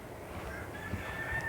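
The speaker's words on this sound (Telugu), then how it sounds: "ఇట్లా కోళ్ళు ఉంటాయి, రకరకాల కోళ్ళు ఉంటాయి ఇక్కడ." Chickens of various kinds kept on the grounds of a nature-cure health retreat give a faint, distant call that may be a crow, over a steady outdoor background.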